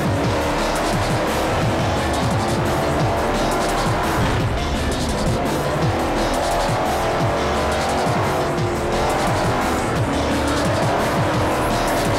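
Muscle cars racing in Forza Motorsport 4, loud roaring engines with repeated tire squeals and skids, dense and continuous throughout with no talk.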